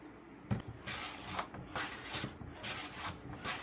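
Rhythmic rasping strokes of sanding or filing a wooden guitar fretboard to a radius, about eight quiet, close back-and-forth scrapes.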